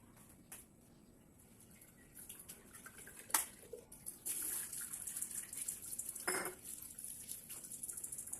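Dishes being washed at an outdoor tap, with running water, clinks of pots and cutlery, and a few louder clatters, fairly close with no talk.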